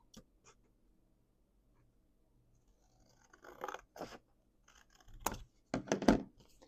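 Scissors cut through paper in a few short, crisp snips and crunches, close and quiet against an otherwise silent room, with small handling sounds between cuts.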